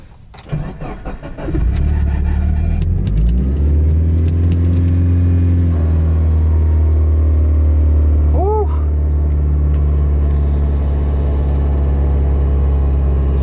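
A Mitsubishi Evo cranks briefly and fires up, then settles into a loud, steady idle with a deep rumble; a brief chirp sounds partway through, with no one speaking.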